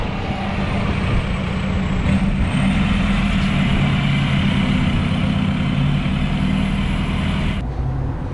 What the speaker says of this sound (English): So we're going to check how much power the wagon makes on the dyno.